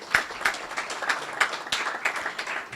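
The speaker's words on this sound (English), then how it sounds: "A round of applause for him." Audience applause for an architect introduced at an energy-efficiency dialogue on smart buildings in Nigeria, dense steady clapping from a crowd with a few sharper individual claps standing out.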